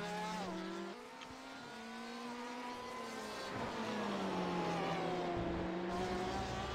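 A Ford GTE race car engine in iRacing at the Brands Hatch circuit screams steadily through the gears, with a dip and pitch drop around a corner and then a rising pull, loud and close, plus some tire noise.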